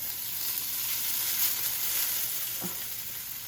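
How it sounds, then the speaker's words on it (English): Noodles frying in a hot oiled pan for beef chow mein, a continuous close sizzle with a faint crackle that holds steady throughout. "The noodles in there. And just wait for it to get crispy."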